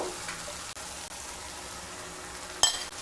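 Spice-rinse water is poured into a pan of cooking shrimp with gourd leaves, giving a soft, steady hiss and sizzle with a sharper splash near the end.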